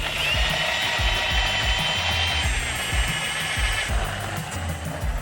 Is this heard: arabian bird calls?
no